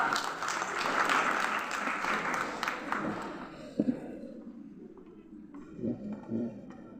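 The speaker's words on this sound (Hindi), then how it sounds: "एक बार जोरदार तालियां" Loud, dense applause from a crowd at a school alumnae honoring ceremony in India that gradually thins out, leaving a few scattered claps and faint murmurs at the end.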